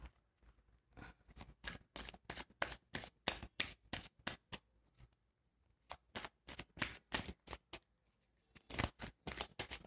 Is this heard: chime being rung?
no